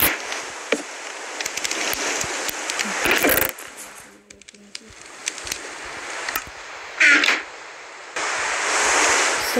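Rain falls in the video game Minecraft as a loud, rough wash of noise. It cuts out and returns several times, with sharp clicks and a quieter dip in the middle.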